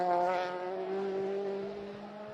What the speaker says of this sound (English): It sounds like it's revving cleanly